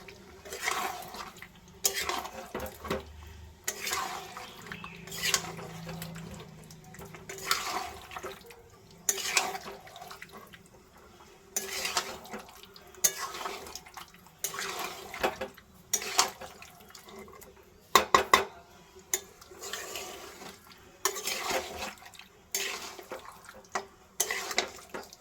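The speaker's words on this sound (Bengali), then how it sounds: "এবার আমি নাড়াচাড়া করব।" Marinated chicken is stirred in a pot for a potato chicken curry, with repeated bursts of scraping and sloshing from the spoon over a low background hum.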